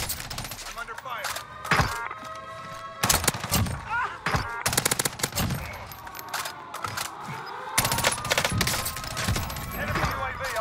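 Rapid gunfire in Call of Duty Cold War Warzone on Rebirth Island, a dense run of close automatic bursts and sharp shots with ringing tones and clinks, nearly continuous and loud throughout.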